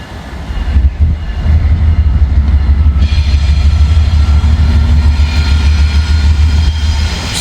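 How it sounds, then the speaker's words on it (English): A Norfolk Southern freight train led by a long-hood-forward locomotive rolls past at close range in a no-horn zone, a loud steady rumble of engine and rail cars that builds sharply and holds throughout, with clattering wheels and no horn. "This will be a Norfolk Southern train."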